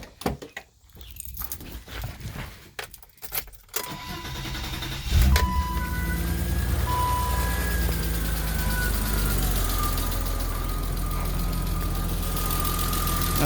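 A 1988 BMW 325 engine cranks and fires after a few seconds of clicking and rustling, then settles into a steady, close idle with a faint whining tone.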